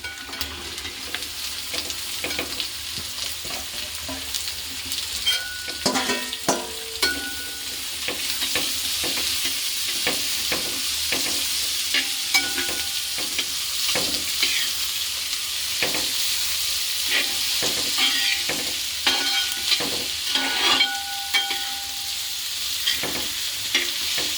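Sliced onions frying with pork in a pan, a continuous sizzle broken by frequent scraping stirs and clatters of a utensil, close and moderately loud with no voices.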